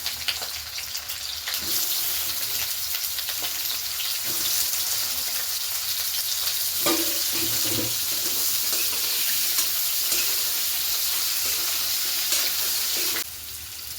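Potatoes fry in a pan for a besan egg curry, a steady dense hiss of frying with a few soft stirring knocks, close by and unbroken, with no speech.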